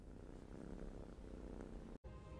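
A pet cat purrs steadily while being stroked, a close, continuous rumbling drone with a short break near the end.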